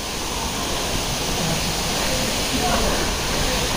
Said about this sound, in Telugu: అటు సైడ్ నుంచి వాటర్ లోపల నుంచి వస్తుంది